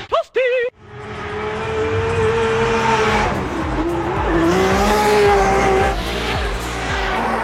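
A loud Nissan S15 drift car engine revs hard while tires squeal in long drawn-out skids, continuous and close, following a few short engine blips at the start, at a Drift Masters event in Riga.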